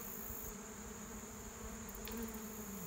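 Bees from an absconding swarm fly about high up in a tree, a steady low droning hum that fills the air throughout, fairly faint and continuous with no talk.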